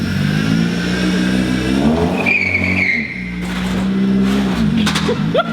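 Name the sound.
BMW E36 engine starting and revving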